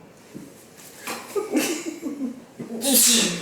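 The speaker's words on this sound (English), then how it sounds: "You have to sneeze on me." A single sharp sneeze bursts out near the end, preceded by breathy sniffs and faint vocal sounds close to the microphone.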